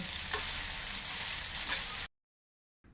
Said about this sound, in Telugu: ముక్కల్ని మెత్తపడేదాకా బాగా మగ్గనివ్వాలి.